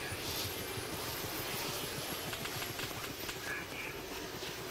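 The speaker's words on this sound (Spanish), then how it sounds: "Escucho un helicóptero." Continuous loud rotor and engine drone of a helicopter in the video game Arma II: Operation Arrowhead, a steady roar with a faint pulsing chop, no one talking.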